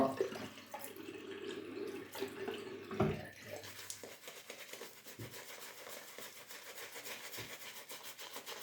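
Water is poured onto a Dutch steel hone for razor sharpening: a soft close trickle and splash, followed by quieter dribbles, drips and faint rubbing.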